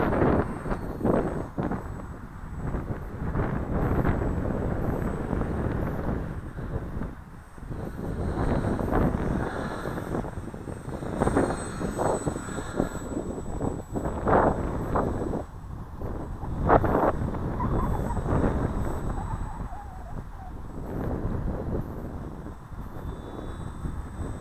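Strong wind buffets the microphone at an RC model plane flying field, a loud, continuous rumbling roar with gusty surges throughout, no voices.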